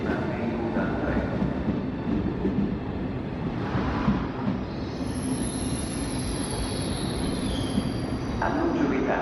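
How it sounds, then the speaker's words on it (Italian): An Italo high-speed train rolls through Roma Termini station, a loud sustained rumble with wheel clatter and a high metallic squeal emerging midway, while a station announcement voice is faintly heard. "Il treno italo alta velocità 89 15 delle ore 18:15 per Napoli Centrale è in partenza dal binario 8."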